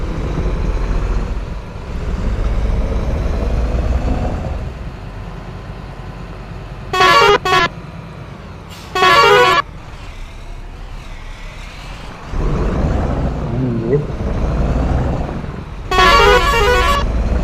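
A loud bus horn in a driving video game honks four times in short blasts, two together and then two spaced apart, over a steady engine drone.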